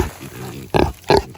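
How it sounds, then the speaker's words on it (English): Kunekune pigs on a pasture farm grunt close by, a few low rumbling snorts followed by two louder, sharper oinks in quick succession. "So these are some pigs. These are Cooney pigs"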